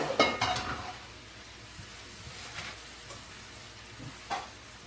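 Pechay stir-fry sizzles as it is moved into another pan, opening with a clatter of cookware and a burst of frying, then soft sizzling with scattered clinks.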